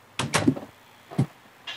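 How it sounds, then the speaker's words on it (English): A door closing in a Minecraft-style block-building video game, heard as a few short wooden knocks and clunks, with a double thud early and a single clunk later, fairly close and clear with no talk over them. "Close that door."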